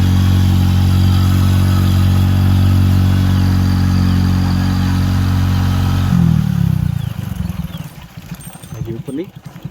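A motorcycle engine labours in first gear up a steep wooded hill road near Kadamgiri, Palitana, running loud and steady for about six seconds before it drops away, leaving quieter clattering and rumble as it idles down.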